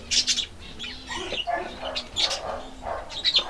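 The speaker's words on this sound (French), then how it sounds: "Même les pigeons de la ville s'y plaisent bien." City pigeons coo in a shady animal-shelter garden, soft low repeated calls in a rhythmic series, with chirps from other birds and a voice talking over them.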